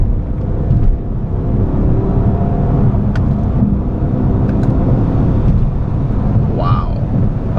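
A 2011 Bentley Mulsanne accelerates from inside the cabin, a deep, smooth engine drone under heavy wind and road noise, with a few faint clicks.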